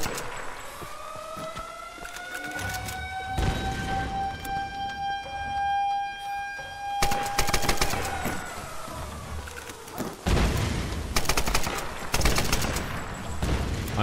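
Machine gun fire in a Tomb Raider (2013) combat scene: rapid bursts of automatic shots in several dense stretches, loud and close, alongside a wailing siren-like tone that rises and falls.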